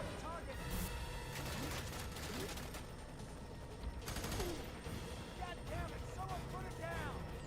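Video game gunfire crackles in quick bursts and rattling volleys, fairly faint under an excited voice talking throughout.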